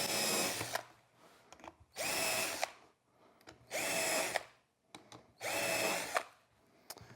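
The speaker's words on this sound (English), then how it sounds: "I'm going to pre-drill holes with a Vicks bit, or also known as a self-centering bit." A power drill fitted with a self-centering bit bores pilot holes in wood for a drill press table, four loud whirring bursts of about a second each separated by short pauses and small handling clicks.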